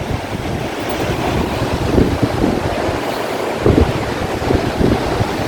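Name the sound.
waterfall rushing water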